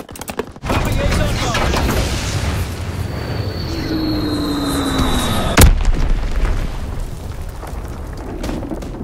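A dropped Azon bomb whistles down in a falling tone and ends in a sharp, loud blast amid steady battlefield rumble in a war video game.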